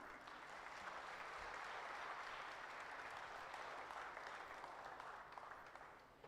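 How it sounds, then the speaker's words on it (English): Sustained applause from an audience at an annual Thanksgiving Day school event, a steady dense clapping that fills the room right after a performance and fades slightly at the end, with no voices over it. "Let's give a round of applause once again"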